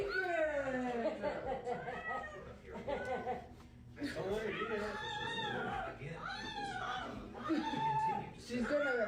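A cat screams and yowls in drawn-out, rising and falling wails over a continuous stretch, close and loud, with people talking and laughing over it throughout.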